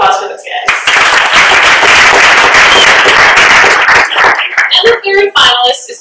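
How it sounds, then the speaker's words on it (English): A crowd bursts into loud, sustained applause with cheering, then the clapping thins out as a voice begins to speak. "Big round of applause for those guys."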